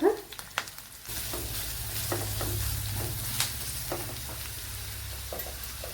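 Finely sliced onions fry in oil, opening with a few sharp clacks before a loud, steady sizzle takes over, with occasional scrapes of a spoon stirring them in the pan.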